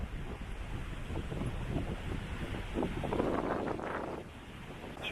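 Strong wind roars and buffets the microphone in a steady, rumbling rush that swells and eases slightly, with no one speaking.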